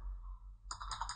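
A computer keyboard is typed on in a quick run of light, faint clicks that start partway through, with a low steady hum beneath and no speech.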